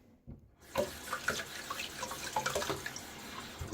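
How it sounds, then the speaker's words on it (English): Water runs from a bathroom tap into a sink during a wet shave, starting abruptly after a moment of quiet and then splashing steadily and close by, with irregular gurgles and drips. "now I'm gonna throw a little bit more water on my face"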